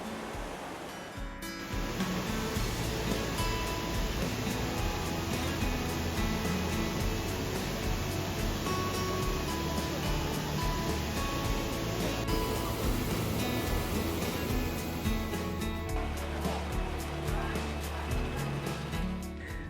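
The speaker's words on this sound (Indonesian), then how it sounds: "Ternyata sebesar ini dan arusnya deras banget." A huge waterfall in Taiwan, known as the Niagara of Taiwan, pours with a strong, fast current, producing a constant dense roar of rushing water throughout, close and loud.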